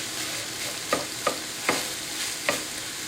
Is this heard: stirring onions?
yes